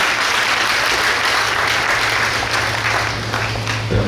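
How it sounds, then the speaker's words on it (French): A church congregation at a Sunday service in Lomé applauding and cheering for the Lord, loud sustained clapping from a crowd throughout. "Est-ce qu'on peut acclamer pour le Seigneur?"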